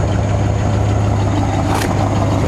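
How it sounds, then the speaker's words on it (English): A 1970 Oldsmobile Cutlass convertible sits idling with a steady, loud, continuous exhaust drone that holds even throughout and is recorded close up, without any talking. "The old exhaust sounds pretty good"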